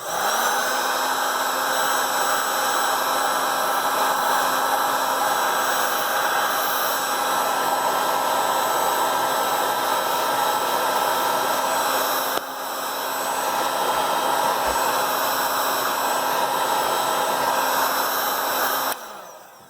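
Heat gun blowing steadily on the adhesive under a Motorola Moto g7 back cover, a loud continuous airy roar with a high whine that keeps going for the whole stretch with one brief dip.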